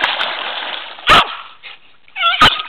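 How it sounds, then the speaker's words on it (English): A dog gives two short, loud barks about a second apart over steady splashing water. "She's barking."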